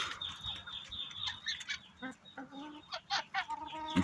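A village hen clucks in short, uneven bursts near the listener among other farmyard fowl, with faint honking from ducks or geese mixed in, all fairly quiet.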